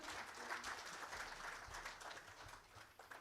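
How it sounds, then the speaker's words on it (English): Audience applause greeting an agriculture and water management expert as he is called on stage at a social impact event, a dense, steady wash of many hands clapping that tapers slightly toward the end. "A big round of applause for him"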